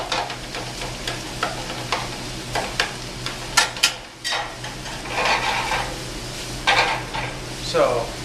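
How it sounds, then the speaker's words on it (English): Ground meat sizzling in a pan for chili-spiced Mexican lasagna while a spatula repeatedly scrapes and breaks it apart, giving sharp irregular scraping knocks over a constant frying hiss. "If you have like a spatula or something, you want to just kind of break it up."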